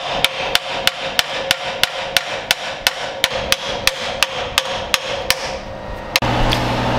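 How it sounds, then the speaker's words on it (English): A hammer strikes metal again and again in a fast, steady rhythm, about twenty sharp ringing smacks close by, ending with one heavier blow. "Round two, bigger hammer."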